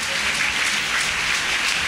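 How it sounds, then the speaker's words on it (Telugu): A church congregation at a Sunday Holy Communion service claps loudly, producing a dense, continuous burst of many hands at once with no pauses. "చప్పట్లు కొట్టండి గట్టిగా."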